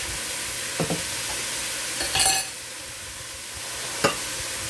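Sliced white parts of green onion sizzle steadily in a pan for shrimp fried rice, with a constant frying hiss broken by a few sharp stirring scrapes and clinks.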